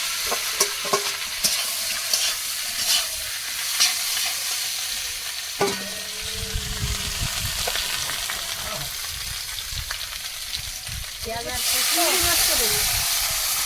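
Whole cumin, onion and potato fry in a pan for a Bengali drumstick, potato and lentil dish, giving a continuous close hiss with stirring scrapes and a louder surge of sizzling near the end, while voices murmur faintly underneath.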